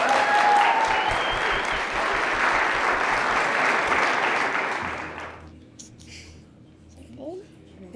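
Audience applause at a high school college signing ceremony for athletes, a dense burst of clapping that fades after about five seconds, leaving low room noise and faint voices.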